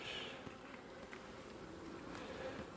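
Honey bees swarm an opened beehive, a faint continuous buzzing drone with soft handling noises and no talk.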